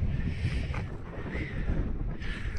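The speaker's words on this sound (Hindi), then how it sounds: "हवा चल रही है" Strong wind blowing on the Sinthan Top mountain pass in Kishtwar, a continuous loud rumbling gust buffeting the microphone, with no speech over it.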